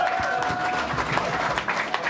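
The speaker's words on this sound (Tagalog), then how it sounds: "akin pong inihingi malakas na palakpakan at sigawan ng bahay katay" A crowd at a rap battle event at the Giniling Festival bursts into sustained applause and cheering, dense clapping with shouts mixed in, loud and continuous throughout.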